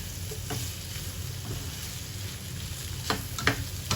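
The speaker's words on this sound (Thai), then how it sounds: "เราก็ยีเลยค่ะยีไข่ให้เข้าๆกันกับผัก" Sponge gourd with minced pork and egg stir-fried in a pan, a steady close sizzle under scraping stirs, with a few sharper spatula clinks near the end.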